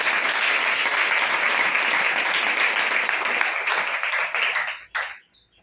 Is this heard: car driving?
no